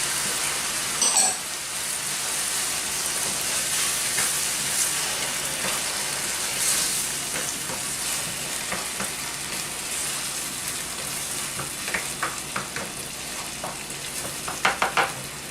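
Tomato paste fries in oil in a pan, a soft continuous sizzle with occasional stirring scrapes and a few sharper taps near the end, with no voices.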